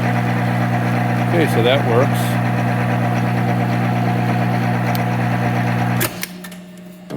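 A Monarch 10EE lathe, 30-inch, runs in threading mode with a steady loud gear whine and hum, then spins down near the end; someone speaks briefly over the machine noise.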